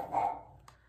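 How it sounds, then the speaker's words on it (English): Several dogs bark and yelp from close by in a home, one loud burst early followed by a couple of short, fainter yaps, with no talking over them. "My dogs are going crazy."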